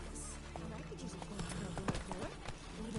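Roach the horse gallops in The Witcher video game, steady clip-clop hoofbeats running under a voice and in-game music.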